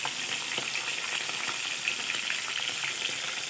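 A pork chop fries in a pan, giving a steady bright sizzle with small crackles and pops throughout, close and fairly even, with no talk.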